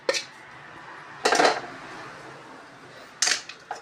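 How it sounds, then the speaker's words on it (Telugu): Chicken pickle ingredients are stirred in a metal pot, giving three separate scraping, clanking bursts of utensil against metal with quiet gaps between, and no talk. "ఇలా మంచిగా మిక్స్ చేసుకోవాలి అన్నీ కలిసేలా."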